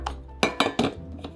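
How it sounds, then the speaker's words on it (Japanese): A soup jar is warmed by pouring hot water into it and setting its lid on top, heard as three quick, sharp metallic clinks close by, with a softer tap trailing after. "お湯を注いで蓋をのせ、スープジャーを温めておきます。"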